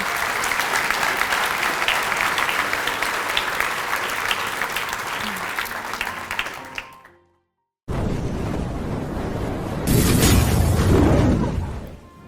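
Audience applause at a Grade 8 blazer ceremony at Hoërskool Bellville, a sustained burst of clapping from a large crowd that fades to silence, then resumes and swells louder near the end.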